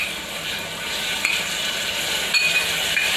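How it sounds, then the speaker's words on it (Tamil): Chopped onion, green chilli and ginger garlic paste sizzle and fry in a pan for channa masala while being stirred, with a steady crackling hiss and occasional faint clinks of the spoon against the pan. "இஞ்சி பூண்டு பேஸ்ட் இப்போ நல்லா வதங்கிடுச்சு."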